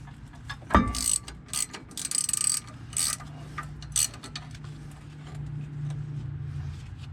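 A ratchet tightening a 17 mm bolt on a car's brakes gives short bursts of rapid clicking, several quick runs close by in a quiet setting.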